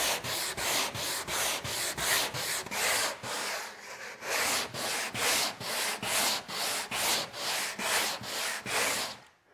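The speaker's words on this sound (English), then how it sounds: "one of the things that you want to do is to sand on a diagonal like I'm doing" Steady back-and-forth strokes of sandpaper rasp across the wooden planks of a boat hull worked on a diagonal during fairing, close and rhythmic with one brief pause midway, no voices.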